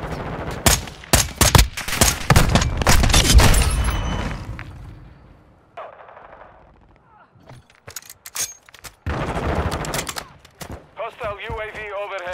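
Gunfire in the video game Call of Duty: Modern Warfare 2, with loud bursts of rapid automatic fire and thuds, then scattered shots, with in-game radio voices and effects in the later part.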